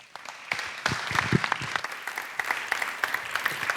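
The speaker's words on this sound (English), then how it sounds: "please give a warm applause to our first guest" An audience applauds as the first guest is welcomed onstage at the Festival INDIGO 2024 design festival. The clapping starts thin, then swells within the first second into steady, dense applause that holds at an even level.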